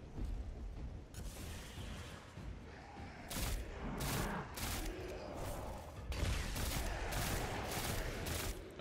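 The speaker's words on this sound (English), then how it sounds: "this pulse rifle's doing it for me" Pulse rifle fire in Destiny 2, heard as scattered sharp bursts of shots over a low rumbling in-game background, fairly faint and distant, with no voices.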